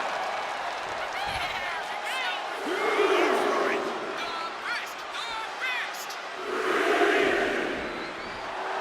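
A wrestling crowd in WWE 2K25 roars and cheers in swelling waves, with shouts rising above a steady din and two louder surges.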